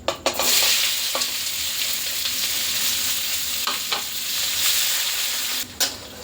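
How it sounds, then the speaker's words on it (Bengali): Chopped onions sizzle steadily in hot oil with cumin and bay leaf for a spicy chicken curry, while a utensil scrapes and stirs the pan in a few sharp clicks near the start and end. "এবার আমি দিয়ে দেব কেটে রাখা পেঁয়াজ কুচিগুলো"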